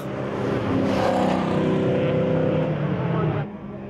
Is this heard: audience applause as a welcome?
no